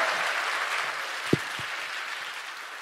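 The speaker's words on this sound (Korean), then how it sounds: "다시 한번 박수 부탁드립니다." Audience applause at a public broadcast recording of a Korean podcast's 300th-episode special, a broad steady wash of clapping from a crowd, moderately loud with one sharp knock partway through.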